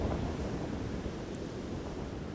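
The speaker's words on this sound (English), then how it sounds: "It's so windy." Strong wind on a beach at Singer Island rushes continuously against the microphone, a thick steady roar with waves and surf blended underneath, no voices.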